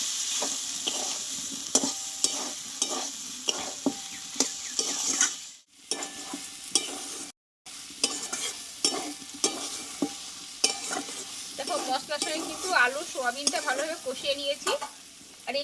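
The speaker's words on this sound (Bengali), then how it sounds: "আলু সোয়াবিন একসঙ্গে আমি মশলার সঙ্গে ভালোভাবে কিছুক্ষণ আলু কষিয়ে নেবো" Potatoes and soybean chunks stir-fried with spices for a vegetarian dish: steady sizzling with frequent spatula scrapes and clatters against the pan, broken by two brief silent gaps, no voices.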